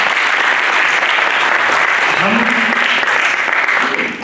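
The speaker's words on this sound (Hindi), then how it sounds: "इनके लिए जोरदार तालियां।" Loud, sustained applause from a theatre audience at a national drama festival, dense clapping filling the hall throughout, with a brief voice underneath.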